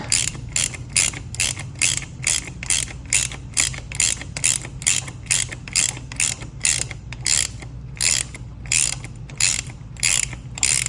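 Hand ratchet tightening a fitting on a KTM Duke 890R engine: a steady run of close, crisp clicking strokes in an even rhythm, heard alone for about eleven seconds.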